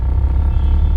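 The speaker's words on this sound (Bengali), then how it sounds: "এই দেখ হাওড়ার বাস।" A bus passes on a street in Howrah, a steady, loud low engine rumble rolling through the whole moment with no voices over it.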